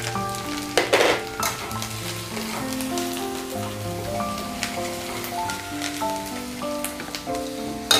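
Ground spices and sugar sizzle in a hot pan while banana-flower leg-piece curry is cooked, a steady crackling fry with stirring clatter and bursts, a sustained tonal melody running underneath.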